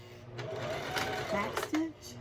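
A Juki sewing machine stitches blanket binding in a short, steady mechanical whir up close, while someone talks over it.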